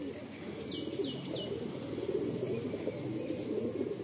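Pigeons coo softly inside a loft, their rising and falling calls repeating several times under a low background hum. A few light chirps are mixed in.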